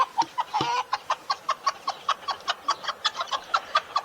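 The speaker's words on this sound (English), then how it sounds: "That's a happy chicken noise." A contented hen clucks in quick, regular bursts at a farmyard feeding, with several evenly spaced clucks close by and one brief louder squawk early on.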